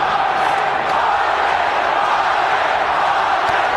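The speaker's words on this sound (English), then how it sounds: "Crowd chanting for Vargas" Boxing arena crowd chanting for Vargas during a De La Hoya fight, a dense, loud, continuous roar of many voices that fills the whole clip without breaks.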